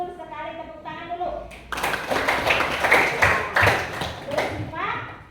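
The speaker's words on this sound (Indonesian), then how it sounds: "Tepuk tangan dulu." Schoolchildren in an Indonesian classroom break into a burst of hand clapping after their teacher's voice, the claps dense and close for several seconds before speech resumes.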